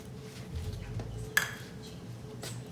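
Metal spoon stirring dalgona coffee of coffee, sugar and hot water in a bowl, with one sharp clink and a few faint taps amid quiet scraping.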